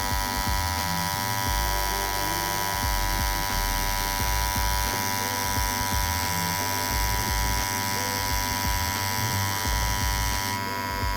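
A tattoo machine buzzes steadily and close up while lining on real skin, a constant electric hum with low pulsing variations running the whole time with no talk.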